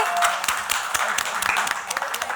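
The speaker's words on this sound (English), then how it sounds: "Big round of applause for Chef Sonakshi." Audience at a celebrity cooking event clapping in a lively burst of applause, many hands close and loud throughout, with a voice faintly audible beneath.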